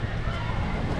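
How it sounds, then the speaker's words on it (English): Gusty wind buffets the microphone at an amusement park in a dense, roaring wash of noise lasting about a second. "Oh, wow, that is really windy."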